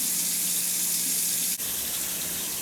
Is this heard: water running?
yes